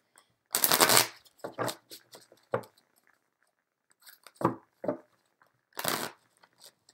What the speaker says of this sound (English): That's not a good shuffle at all.